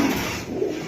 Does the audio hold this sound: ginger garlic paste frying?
no